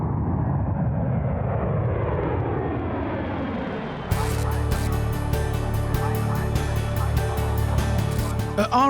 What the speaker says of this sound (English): the C-17 touches down after a 9-hour flight from Kandahar